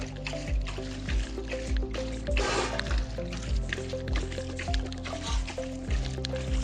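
Molasses dissolved in water is poured onto a bokashi compost pile, giving a steady wet trickle with dripping and squelching, close by, over a low rhythmic thumping background.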